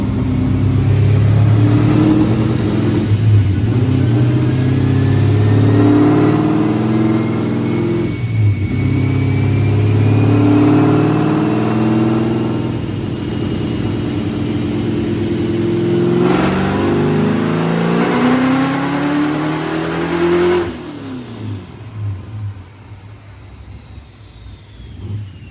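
Ford Mustang SN95 engine revving hard on a nitrous hit, a loud sustained roar with rising pitch that holds for about twenty seconds before dropping off sharply near the end.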